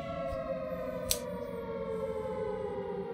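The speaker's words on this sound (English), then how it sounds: "The damn siren head out here." Siren Head creature's siren wail in the survival horror game Siren Head: Stranded, a steady layered drone of stacked tones holding throughout, loud and sustained, with a brief sharp click near the middle.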